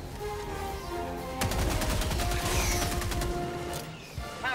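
Weapon fire and an explosion in the Helldivers 2 video game: a rapid burst of gunfire leads into a loud, sustained crashing blast, heard close and dominant throughout.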